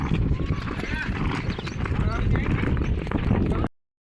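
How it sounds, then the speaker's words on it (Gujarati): Hooves of a mare clip-clop steadily as she is ridden along a rural track in rainy weather, close and continuous, with people talking over the rhythmic beat. "તો કૌશિકભાઈ ચડી ગયા છે હવે આપણી ઘોડી ઉપર."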